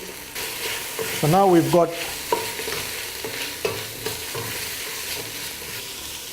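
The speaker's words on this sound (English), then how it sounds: "And now I put in my mushrooms." Mushrooms and prawns fry in a pan with leek, onion and garlic for linguine, a loud continuous sizzle with clattering stirs and a brief squeal, while someone speaks briefly.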